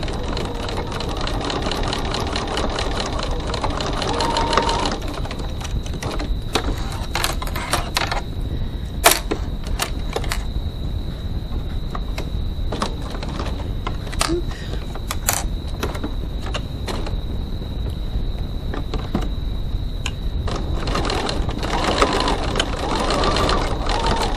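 Sewing machine stitching crossbody bag seams at a 2.4 stitch length with a 1 cm seam; close, steady whirring runs broken by short pauses and small clicks.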